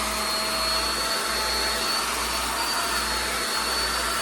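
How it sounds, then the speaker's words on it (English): A handheld blow dryer runs on its high setting, a loud, steady, close whooshing roar of air and motor that holds constant throughout. "get you a hand blow dryer, put it on high, start working at the bottom"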